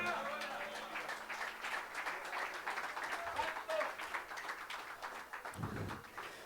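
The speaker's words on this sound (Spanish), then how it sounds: "Dele palmas al Señor" Congregation applauding at a vigil church service, a dense, steady wash of many hands clapping at middling distance, with voices calling out beneath it and a low thump near the end.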